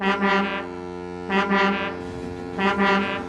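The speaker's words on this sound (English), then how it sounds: "That foghorn is so loud it rattles my dome." A loud, deep foghorn on a ship near Misty Valley sounds three long steady blasts, each swelling and fading with a brief gap between, in a cartoon railway setting with a rumbling background.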